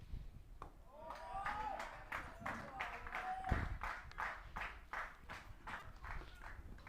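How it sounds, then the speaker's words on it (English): Teammates at an under-19 cricket match clapping in a steady rhythmic series of claps, moderately distant and faint, with a voice talking over the start. "His teammates applauding him"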